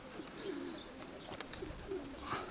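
Several moulting pigeons coo softly in low, throaty murmurs, overlapping calls repeating close by with light rustling.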